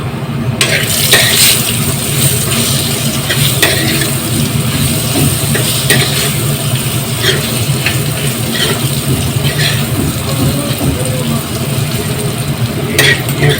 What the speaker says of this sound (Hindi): जो कुकर में जो हमने प्याज डाला था उसको अब हम कढ़ाई में उतारते हैं और उसको फिर भूनते हैं